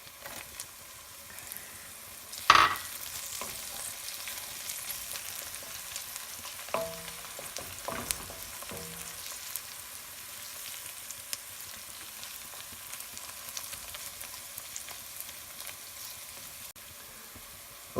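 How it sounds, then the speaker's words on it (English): Onions and garlic frying in a pan for pasta sauce, a steady soft sizzle throughout with a sharp clatter near the start and a few short scraping stirs midway. "We'll stir it and cook it for a couple more minutes"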